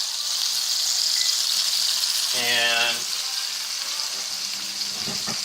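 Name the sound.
peppers sizzling in skillet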